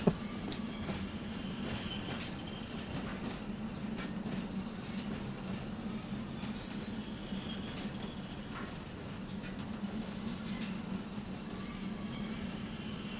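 Locomotive rolling along the track in the Derail Valley train game: a steady low rumble with a drone near two hundred cycles, continuous and even throughout with faint clanks, no voices.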